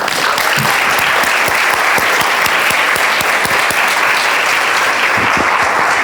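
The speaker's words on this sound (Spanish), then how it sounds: "aplauso." Seminar audience at a marketing management event applauding a presenter, a loud, sustained roar of many clapping hands that stays even throughout, with no speech on top.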